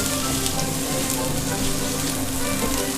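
Chanterelle mushrooms fry in butter with salt in a pan, producing a dense, loud, even sizzle and crackle that holds steady without pause.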